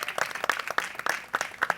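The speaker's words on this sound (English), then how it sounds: "give a round of applause" A live audience at a panel discussion on mental health and masculinity claps briefly, a short spatter of scattered hand claps, fairly faint and uneven.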